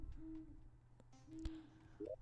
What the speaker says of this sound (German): Hallo Eule.